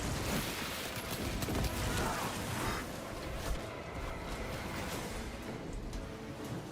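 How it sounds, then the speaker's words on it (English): A frag grenade and bursts of gunfire in the Warhammer 40K shooter Space Marine 2, a dense, rumbling clatter of shots and blasts rolling on for several seconds without speech. "Frag grenade out."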